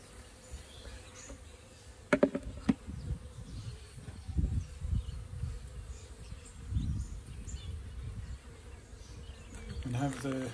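Honey bees buzz in a low, steady drone around a backyard hive while a few sharp clicks and handling noises of a beekeeper working at close range break in.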